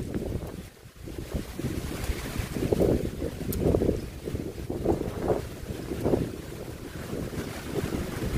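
Strong wind from an approaching typhoon roars continuously, buffeting the microphone in heavy gusts with a deep rumbling rush.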